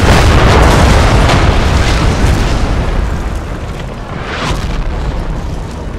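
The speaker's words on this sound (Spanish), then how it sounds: "A ver qué sienten cuando les lanza la bomba, los disparos de cañón." Heavy, rumbling cannon fire and explosions in the Napoleon Total War battle game, a loud continuous low roar of booms that dips briefly and swells again.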